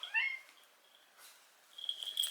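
A house cat meows indoors, a short close call at the start, then a faint pause and a second drawn-out meow near the end, quiet and alone.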